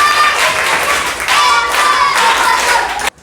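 A classroom group claps for a student in a short burst of lively, close applause that stops abruptly at the end.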